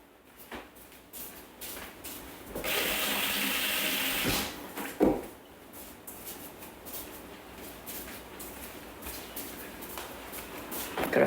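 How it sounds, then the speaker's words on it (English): A kitchen tap runs for hands being washed, starting as a bright hiss of flowing water at moderate loudness for a couple of seconds, then cutting off into clatter and rustling. "I'm going to wash my hands."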